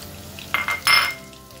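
Cumin seeds, garlic and ginger hitting hot oil in a pan for a palak paneer curry, with a few quick sizzling bursts and light stirring clinks close by, then a fading crackle.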